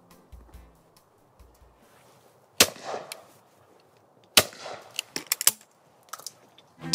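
Shotgun shots from a Miroku gun firing Ely Schools Challenge Stealth cartridges at a clay shoot: two sharp, loud reports about two seconds apart, followed by a cluster of quicker clicks and bangs, with no talking.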